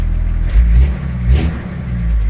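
A rebuilt Nissan Patrol 4.2 K260 diesel, about 40 years old, starts and revs close by, giving a deep low rumble with two throttle blips swelling over a steady idle.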